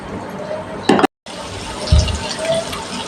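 Half a cup of ghee poured into a pan for chicken jalfrezi makes a steady, close liquid stream that cuts out briefly, then continues with soft splashy gurgles.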